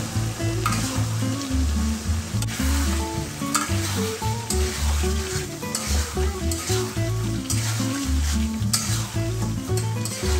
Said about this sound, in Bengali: এখানে 500 গ্রাম মাংস দিয়ে দিচ্ছি। এই মাংসটা সুন্দর করে আমার মিডিয়াম আছে এটা কষতে হবে।